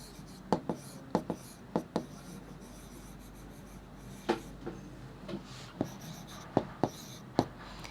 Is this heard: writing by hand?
yes